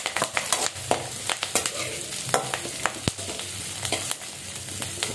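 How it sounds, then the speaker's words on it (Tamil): Curry leaves and onions sautéing in a pan, a steady close sizzle with repeated scraping strokes of a spoon stirring through the mix. "நான் வந்து இதில் ஒரு கைப்பிடி அளவுக்கு பச்சை கருவேப்பிலைய போட்டு ஆனியனோடைய நல்லாவே இதை வதக்கி விடுங்க."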